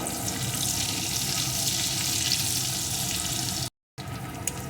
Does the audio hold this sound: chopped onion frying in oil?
yes